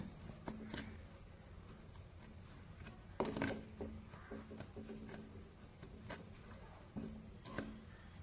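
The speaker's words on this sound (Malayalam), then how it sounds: "ഇനി ഇത് നല്ലപോലെ ഒന്ന് വറുത്തെടുക്കണം." Dry hair-dye powder being roasted on low to medium flame in a pan, with intermittent scraping and stirring scratches and a few sharper clinks against the pan, close and quiet.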